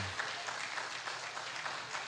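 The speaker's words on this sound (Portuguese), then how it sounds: "Aplauda ao Senhor." A congregation at a Portuguese-language sermon claps in praise to the Lord, a soft, distant, continuous patter of applause with no voices over it.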